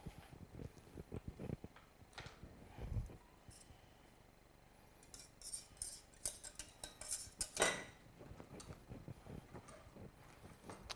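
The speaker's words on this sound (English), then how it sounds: "what I'm doing now is I'm straining this into the clean pot" Vanilla custard strained into a clean pot, with irregular metallic clinks and scrapes of utensil against pot, a few louder knocks between quieter pauses, close and fairly faint.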